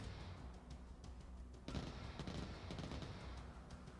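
Distant gunfire in a real-time strategy game battle: faint scattered rattling shots and fusillade bursts, with a louder crack partway through, heard from far away with no voices.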